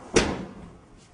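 The doors of a livestock work chute for handling cattle swing shut with one sharp, close bang that fades quickly into quiet.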